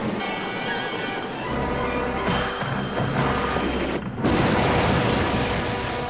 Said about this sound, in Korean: 위기를 느낀 블로펠드는 회심의 수류탄 공격을 하는데